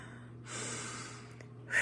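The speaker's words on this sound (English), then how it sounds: "Just breathe in" One slow deep inhale through the nose, soft and close, in a quiet room with a low steady hum beneath.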